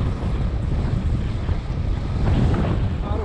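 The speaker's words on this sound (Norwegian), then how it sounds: "Det er en god del vind i ryggen." Strong wind rushes steadily past the microphone during a paraglider cross-country flight, a constant loud roaring buffet with no other clear sounds.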